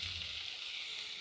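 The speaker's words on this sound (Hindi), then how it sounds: "प्याज थोड़ा भून गया है, इसमें मैं दो बड़े टमाटर ऐड कर देती हूँ" Two large tomatoes hit a pan of browned onion and ginger-garlic paste and fry with a steady, bright close sizzle that holds even throughout.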